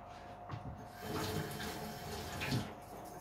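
Tap water runs into a sink while fresh basil leaves are washed, a steady, fairly quiet splashing stream with small shifts as the leaves move under it.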